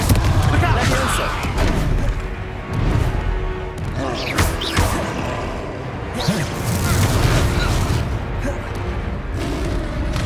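Confringo fire spell blasts in the Hogwarts Legacy video game, booming impacts and crashes landing repeatedly amid dense combat effects and shouted character voices throughout.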